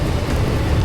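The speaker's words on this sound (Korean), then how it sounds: "빗소리가 들리시죠?" Heavy rain in strong wind pours down during a Harley-Davidson Fat Boy motorcycle ride in Kyushu, a dense, loud, close rushing noise.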